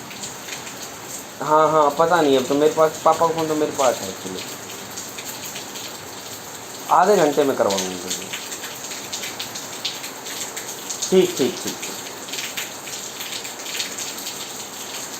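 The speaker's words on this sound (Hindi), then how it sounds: "जब देखो बारिश भी हो रही है" Rain falling steadily as a constant hiss beneath someone speaking Hindi on the phone in short bursts, the downpour continuing evenly between his phrases.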